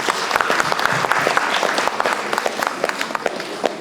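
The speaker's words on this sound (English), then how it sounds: "Please give them another round of applause." Sustained applause fills a hall after a performance at a Kalaanjali 2024 fundraiser concert, with dense, steady clapping from a sizeable audience that carries on for several seconds before thinning slightly.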